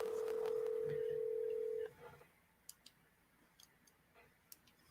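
A steady electronic telephone tone heard over a phone line holds for almost two seconds and then stops, leaving faint clicks and soft line noise.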